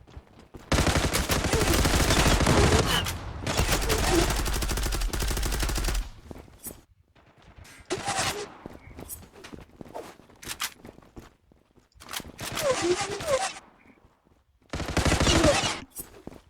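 Gunfire in the online shooter Zula during a competitive match: loud bursts of automatic fire in a long stretch up front, then several shorter volleys spaced apart, with footsteps and quiet gaps between.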